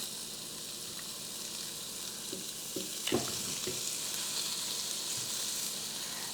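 Small chicken strips for fajitas sizzle and crackle steadily on an indoor grill, a continuous close frying hiss with a few brief clinks and pops, no talk.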